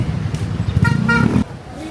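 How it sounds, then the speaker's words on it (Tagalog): Road traffic sounds around a line of cars, with a couple of short car horn toots honking over a busy engine rumble that drops away suddenly, leaving quieter street noise. "Traffic sa Bukawi."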